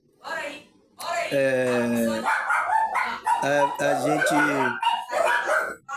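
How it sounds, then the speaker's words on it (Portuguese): Several dogs bark and yelp in bursts, some drawn-out and howling, fairly close, with short gaps between outbursts. "Os cachorros aqui tá querendo falar de espiritualidade, ó, tá vendo aí?"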